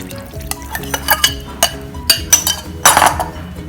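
A spoon stirs tamarind water into simmering sambar in a pot, scraping and clinking against the metal in uneven strokes, with a light sizzle and a burst of louder clatter near the end.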